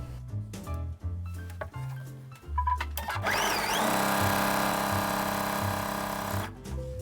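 Sewing machine stitching two quilt strips together for improv quilt blocks, a steady close motor whir that runs continuously for several seconds after some brief handling sounds.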